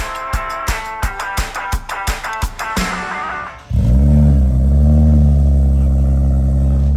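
A 2023 Nissan Z, rebuilt from a wrecked salvage car, cranks with a rapid clattering starter for several seconds, then catches and settles into a loud, steady idle that keeps running close by.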